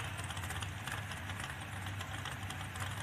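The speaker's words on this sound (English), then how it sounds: "They're running a big block Ford" A big block Ford engine with two carburetors and aftermarket cast iron cylinder heads runs at a steady, low idle, a continuous deep rumble heard faintly from some distance, with no speech.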